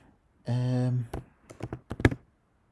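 Brief bursts of keys clatter on a computer keyboard as a search is typed, a few quick clicks in two clusters following a short spoken phrase.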